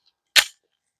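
A Canik Rival pistol fires a Winchester Ranger round in one sharp, loud crack that cuts off quickly, with a brief ringing tail and silence on either side.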